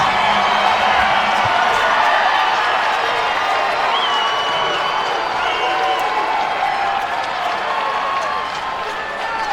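Dense basketball arena crowd roaring and cheering after a corner three-pointer in a men's college game, a loud sustained wall of voices and whoops that stays steady for the whole stretch and eases off slightly toward the end.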